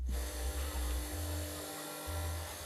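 A sewing machine stitches around the collar and cuff of a T-shirt, running in steady motorized bursts with brief pauses between runs, close and fairly loud.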